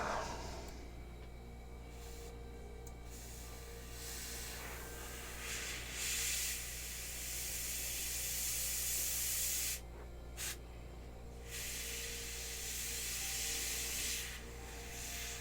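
An airbrush sprays paint onto a miniature figure in a series of hissing bursts, some short and some held for a few seconds, close and fairly quiet over a steady low hum.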